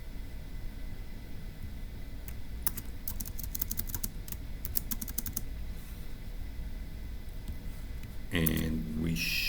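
Clattery bursts of computer-keyboard typing, quick uneven keystrokes in clusters, close and clear over a steady background hiss while notes are typed up for a Turing Machine logic puzzle.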